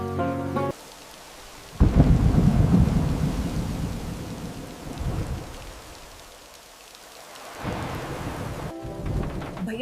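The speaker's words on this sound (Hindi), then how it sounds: "बारिश तेज हो रही है" Heavy rain pours steadily with deep rolling thunder rumbling through it, swelling loud near the start and again toward the end.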